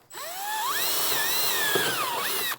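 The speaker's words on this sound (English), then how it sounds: "we're just gonna drill a hole through the plywood" Power drill whines through plywood in a farm setting, a single bore with the motor pitch rising, wavering under load and dropping, close and loud with no talking.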